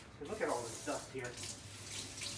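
A tap runs while gardening things are rinsed, a soft, close splashing flow of water that shifts in texture as items move under it, without clear speech.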